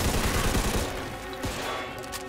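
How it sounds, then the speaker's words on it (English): Tommy guns in Mafia II spray a rapid, dense burst of gunfire that rattles loudly at first, then thins into scattered shots over a lingering noisy background. "All these men got Tommy guns."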